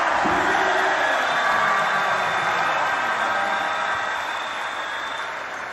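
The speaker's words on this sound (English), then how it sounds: "And hear that crowd roar, Migs." Crowd roaring at a Philippine MPBL basketball game in Pampanga, a loud sustained wash of arena noise that slowly fades over several seconds.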